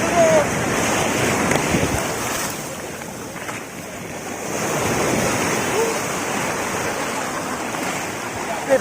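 Sea waves rolling onto Baga Beach in Goa, a steady broadband wash of surf that swells and eases over several seconds, with wind noise and faint voices in the background.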